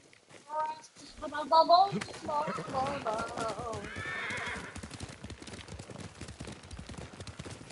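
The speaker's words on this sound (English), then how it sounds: "How can my grandma ride a horse, but I can't even get on one?" A horse in the video game Ghost of Tsushima whinnies and neighs loudly, then gallops off with rapid clip-clopping hoofbeats that settle into a steady rhythm, with voices talking over it.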